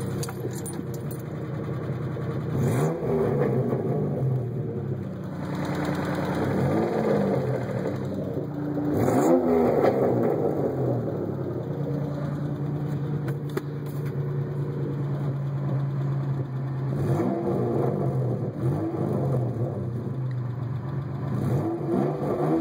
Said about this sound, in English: But I'll rev it a little bit.